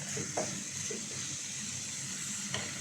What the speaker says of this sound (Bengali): তরকারিটা এখন কষাইতেছি